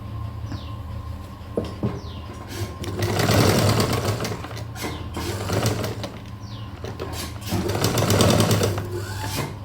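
A sewing machine stitching a one-dart blouse lining, running in loud, close bursts of rapid needle clatter with brief pauses and slowdowns between runs.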